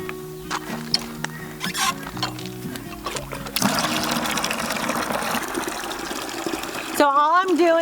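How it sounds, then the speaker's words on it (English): Water pouring into a container to mix a homemade fertilizer, a steady broadband gush that starts partway through after some clattering and ends with louder rushing near the close; a voice talks over it. "So all I'm doing is filling it up with some water."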